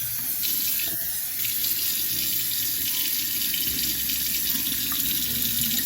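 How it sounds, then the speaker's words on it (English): Lukewarm tap water runs into a sink in a steady, close, continuous stream with no pauses and no speech. "Lukewarm water."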